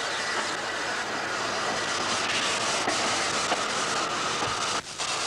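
A Ffestiniog Railway narrow-gauge passenger train from the mid-1980s rumbles past, a steady loud roar with faint rhythmic clickety-clack of wagons on the rails, continuous throughout with a brief dip near the end.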